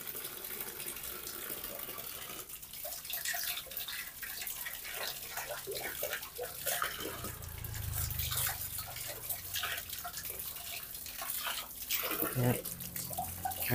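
Water trickling and splashing as it flows out of a homemade five-layer filter with two sand layers at reduced pressure, a steady watery hiss with drips and a few louder splashes, alongside soft background voices.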